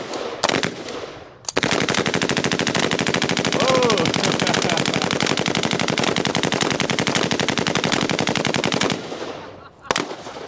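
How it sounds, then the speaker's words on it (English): Sustained bursts of machine gun fire rattle at a shooting range, a dense rapid stream of loud close shots lasting several seconds, preceded by a few separate shots and ending abruptly. "Range is hot, open fire."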